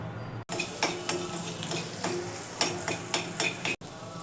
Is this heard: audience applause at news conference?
no